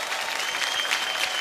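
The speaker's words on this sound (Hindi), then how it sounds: "एक बार जोरदार तालियां हो जाएं आलिया भट्ट की इस खूबसूरत परफॉर्मेंस के लिए।" Studio audience applause at a Hindi comedy show following a performance by Alia Bhatt, a brief burst of dense clapping from a crowd, fairly soft and steady.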